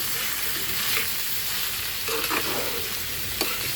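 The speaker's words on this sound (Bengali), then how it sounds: "এখন আমি এটাকে একটু নেড়ে ফেলে নেব পেঁয়াজগুলোর সাথে" Something cooks with onions in a pan and gets stirred, giving a steady frying hiss broken by a few scraping clinks of a spoon. The sizzle stays close and even, with no voices.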